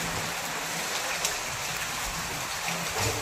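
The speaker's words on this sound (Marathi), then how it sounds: "पाऊस आला मोठा आहे बघा." Heavy unseasonal monsoon rain pours down in a steady, dense hiss with scattered louder drops and splashes, constant and close throughout.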